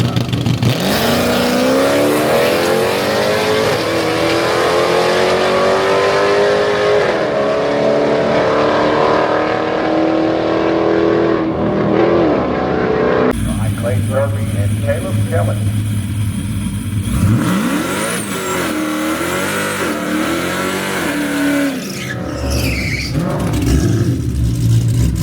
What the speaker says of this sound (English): All right, that was a good burnout for Zorro